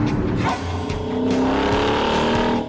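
A Mercedes W211 E63 AMG with its naturally aspirated 6.2-liter M156 V8 rumbles loudly, the engine note rising as it revs and pulls away, close and continuous with no talk.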